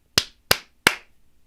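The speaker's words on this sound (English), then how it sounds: "3 claps, or snaps" Three sharp hand claps, evenly spaced and close, each one quick and bright, followed by near silence.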